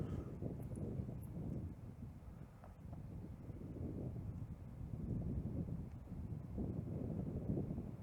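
Gusty wind buffets the microphone on an outdoor disc golf course, a steady low rumble that swells and eases in gusts for the whole stretch, with no talk.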